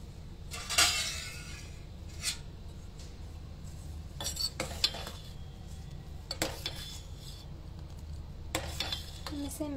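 A spoon stirs crushed cardamom through rice cooking in a pot, giving scattered metallic scrapes and clinks against the pot over a low, steady background, with occasional faint speech.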